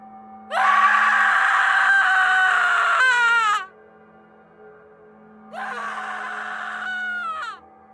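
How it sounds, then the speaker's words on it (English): A woman screams from an upstairs room, two long loud shrill cries separated by a pause, each ending in a wavering, falling wail, with no other voices. "from the upstairs room, I heard a woman screaming in pain."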